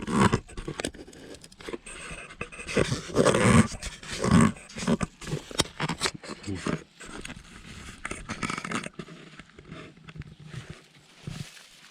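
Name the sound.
dog panting and growling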